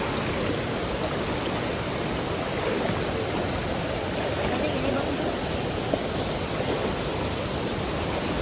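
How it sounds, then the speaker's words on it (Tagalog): Strong rushing water and waves near a waterfall on a Bukidnon river adventure, a loud, steady, broadband roar filling the whole stretch without letting up. "Lakas na alon."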